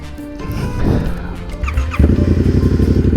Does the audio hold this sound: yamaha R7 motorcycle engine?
yes